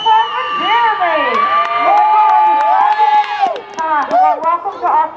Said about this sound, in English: let's get a big round of applause for Jeremy